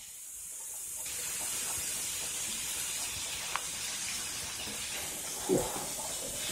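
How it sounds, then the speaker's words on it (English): Mushrooms frying in a pan with onions and butter for an Italian farfalle dish with fontina and ceps give a steady, fairly quiet sizzling hiss, with a brief louder crackle near the end and no talking. "we're going to add our mushrooms. And we're going to fry those for 2 minutes"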